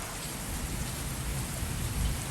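Steady rain falls on a wet weekend day, a dense, even hiss of drops on surfaces with soft low rumbles beneath, continuous and close, no voices.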